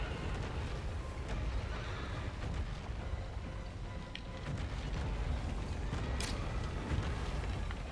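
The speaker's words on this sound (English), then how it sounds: "Go on, horse, piss off." A horse in the video game Shadow of the Colossus whinnies amid steady game ambience, with faint hoof clops and creaking sounds mixed into a continuous low rumble.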